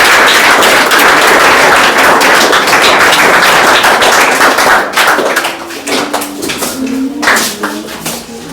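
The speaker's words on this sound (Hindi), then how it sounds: "ताली बजाओ करिश्मा के लिए" A classroom full of students claps loudly and steadily for a classmate, Karishma, as she is called up. The dense applause fades after a few seconds into scattered claps beneath a teacher's voice.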